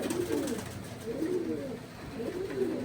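A loft pigeon coos close by in soft, repeated rolling phrases, three or four in a steady rhythm, over a quiet background.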